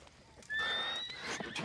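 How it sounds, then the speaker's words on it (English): A horse in the Red Dead Redemption 2 video game gives a clear, sustained neigh with a high tonal whinny, heard alone at close range over a steady game background. "The horse."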